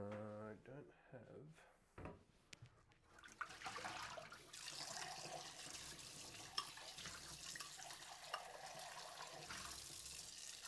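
One litre of water measured out in a kitchen: a brief wooden knock and clatter, then water running and pouring steadily for several seconds, fairly close.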